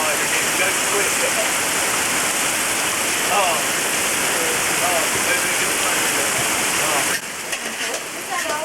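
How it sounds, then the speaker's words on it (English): Heavy rain pours down in a steady, loud hiss with close drops spattering on surfaces, continuous for several seconds before easing slightly near the end. "So it's raining now."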